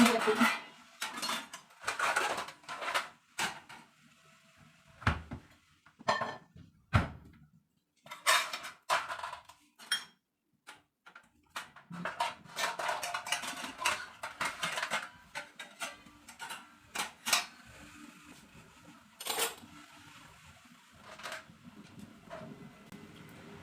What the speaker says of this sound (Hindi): बर्तन मैंने सारे समेट लिए हैं, बस ये एक कटर है और 2 चाकू हैं, इनको रख देती हूँ